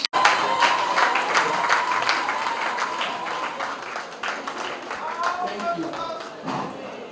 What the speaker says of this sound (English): shall we rise up and give her a resounding applause